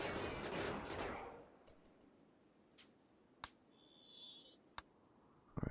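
Charge rifles fire in a mechanoid fight in the Rimworld video game. A dense burst of crackling shots opens the clip, then sharp single cracks ring out at intervals over quieter game ambience.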